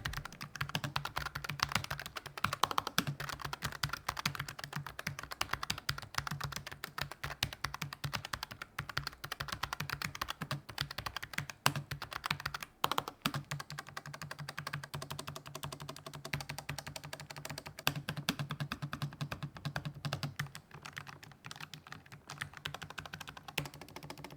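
Steady, continuous typing on a thin Logitech G515 low-profile keyboard with sound-dampening, close and clear, rapid keystrokes in an unbroken rhythm with no voices.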